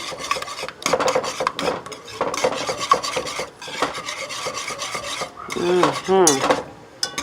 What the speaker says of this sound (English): Now we're going to stir in our yolk, our egg yolk.